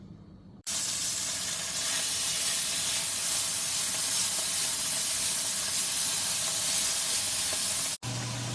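Thin strips of bulgogi beef sizzle loudly in a pan over medium to medium-high heat, a dense steady hiss that starts abruptly and cuts out sharply near the end.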